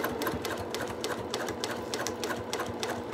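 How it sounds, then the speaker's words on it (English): A sewing machine stitches along handbag edges with a fast, steady rhythmic clatter, close and fairly quiet, with no talking. "And I sew along these edges with 1/8 of an inch seam allowance."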